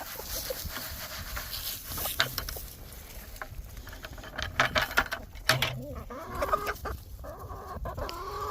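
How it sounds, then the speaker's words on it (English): A flock of chickens and roosters being fed on a farm, clucking and squawking steadily at close range with some pattering and bustle, and a few sharper calls near the end. "Some of the roosters are a little mean."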